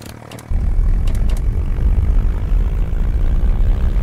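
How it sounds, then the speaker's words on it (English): Simulated aircraft engine in the Eurofly 3 flight game roars up to full throttle for takeoff, a loud, steady propeller-like drone that jumps in abruptly after a short quieter idle and holds constant, with a few faint clicks early on. "So let me just try to take off. 0 flaps at 1. Okay, full throttle."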